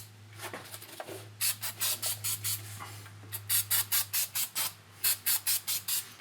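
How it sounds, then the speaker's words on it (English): Max battery terminal protector sprayed onto the terminals of a 2004 EZGO TXT 36-volt golf cart battery pack: about twenty short, sharp hissing aerosol bursts in three rapid groups, close and clear over a low electrical hum. "I'll spray it."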